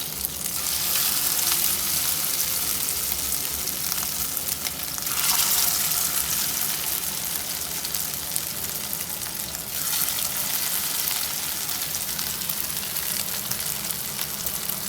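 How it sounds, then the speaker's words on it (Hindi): Chapli kebabs shallow-frying in ghee over medium heat give off a loud, steady, close sizzle that crackles continuously throughout, with brief surges in intensity and no speech. "अब ये मैंने घी लिया है, आप चाहें तो ऑयल ले लें, मैं घी में तल रही हूँ।"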